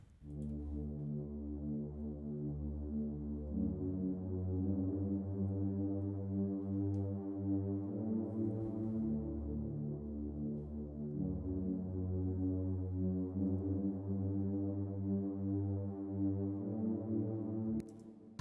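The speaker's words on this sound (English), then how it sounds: "the pad sounds like this" A sustained synth pad plays slow, warm chords that shift through a simple progression, steady and mid-level with no voices.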